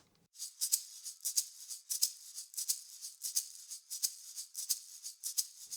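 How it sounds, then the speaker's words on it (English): A pair of live-played maracas shaking a steady groove, crisp rhythmic bursts of rattling beads repeating evenly, close and alone. "So maracas sound like this."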